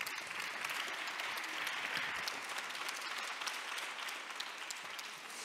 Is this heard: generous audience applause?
yes